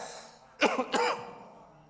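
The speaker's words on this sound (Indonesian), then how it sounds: "yang memandu masih batuk ya" A single close, sharp cough with two quick bursts from the worship leader during a Sunday church service, otherwise quiet.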